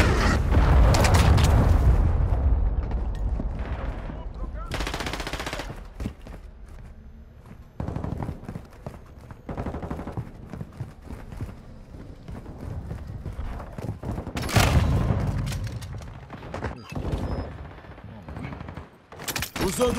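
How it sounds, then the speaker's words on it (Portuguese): Bursts of automatic gunfire and heavy explosions from Call of Duty: Modern Warfare II combat, loud rattling volleys and booms in repeated waves with brief lulls, with game voice callouts mixed in. "Liberando munição aqui."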